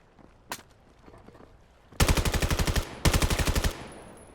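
Two rapid automatic bursts of gunfire from a competitive 1v1 shooter video game, loud and close, each lasting under a second after a single earlier shot.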